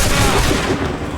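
Musket volley gunfire in Assassin's Creed III, a dense, loud burst of rolling shots that fills the whole moment with no voice over it.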